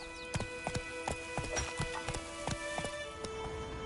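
Roach, Geralt's horse in The Witcher 3, gallops in a quick, even rhythm of sharp hoofbeats, close and clear over a low steady background hum.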